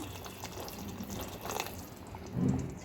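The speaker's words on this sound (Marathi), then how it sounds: "याच्यामध्ये पाणी टाकून द्या आणि पाणी गरमच टाकायचं" Water pours steadily into a pot with a soft, low splashing that swells briefly near the end.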